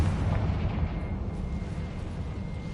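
A Confringo fire-explosion spell goes off in the video game Hogwarts Legacy, a loud, rumbling blast that keeps roaring with a heavy low end for a few seconds.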